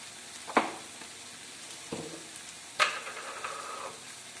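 Half a spoon of turmeric powder goes into a hot oiled pan for Kerala-style chicken varattiyathu, bringing a steady soft sizzle with a couple of sharper scraping stirs, close by and without speech.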